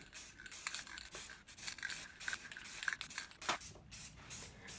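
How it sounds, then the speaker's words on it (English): A spray can applies metallic aluminum paint to a homemade Tusken Raider gaffi stick prop, a series of short hissing bursts of varying length, close and fairly quiet. "Spray the spike and fin side with a metallic aluminum spray."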